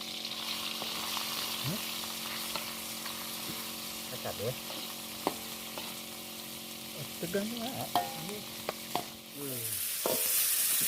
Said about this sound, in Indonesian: Goreng ikan teri. Ikan buntur kecil-kecil.